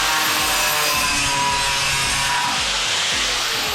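A diamond blade saw cuts aluminium fed through a layer of plastic, giving a loud, steady, continuous grinding rasp throughout with no pauses.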